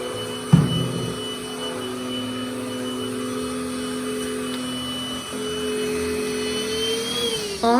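A Deerma vacuum cleaner runs with a steady motor whine and humming drone, a thump near the start and a shift in pitch near the end, close and with no talking.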